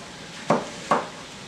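A knife chops onions on a cutting board, two sharp, close knocks spaced about half a second apart against a quiet kitchen background.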